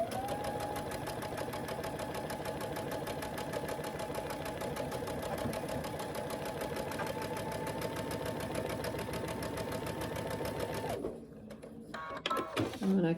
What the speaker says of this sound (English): Then I'm going to sew a 1/4 inch seam.